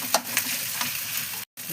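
Fried rice sizzles steadily in a hot wok while a spatula scrapes and stirs it, with a short pause near the end.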